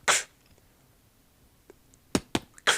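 A beatboxer performs a drum fill slowly by mouth, with a sharp burst, a long quiet gap and a few faint clicks, then three punchy kick-and-snare style hits close together near the end, imitating a drum kit.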